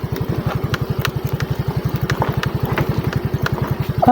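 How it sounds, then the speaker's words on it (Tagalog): A motorcycle rides downhill on a rough trail toward the Dao River in Lupi, Camarines Sur, its engine thumping in a steady, fast, close pulse throughout. Any scraping of the center stand is not distinct. "parang sumasayad yata yung center stand ng motor natin ah"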